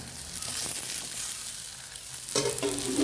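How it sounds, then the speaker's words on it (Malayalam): Onions and small shallots sauté in a pan with a soft continuous sizzle, quiet and close, with a brighter burst of frying and stirring near the end. "കുറച്ച് ചെറിയ ഉള്ളി കൂടിയിട്ട് വഴറ്റാൻ വേണ്ടിയിട്ട് വെച്ചിട്ടുണ്ട് കേട്ടോ"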